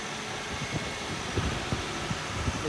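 A 1987 Nissan D21 engine with throttle body injection, running again after sitting seized for 30 years, gives a steady close mechanical drone with soft uneven throbbing pulses and no voices.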